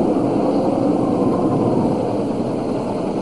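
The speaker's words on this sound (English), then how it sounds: "Sounds like a helicopter" Steady broadband rotor and engine drone of a helicopter flying, continuous and fairly loud throughout with no voices over it.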